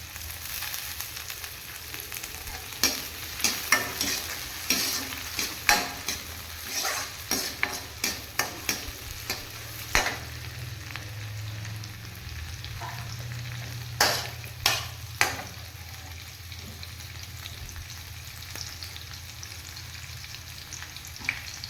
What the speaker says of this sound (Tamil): வெங்காயம் வதங்கிடுச்சு பச்சை மிளகா போட்டுக்கலாம்